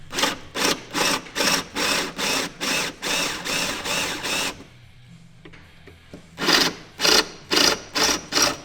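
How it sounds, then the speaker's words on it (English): Power drill fitted with the wrong bit drilling out spot welds on a GT86 car body, a loud close run of about a dozen short, even grinding bursts with a brief quiet gap before the last few. "the idea is that it's going to drill out the spot weld before it goes through the body of the car"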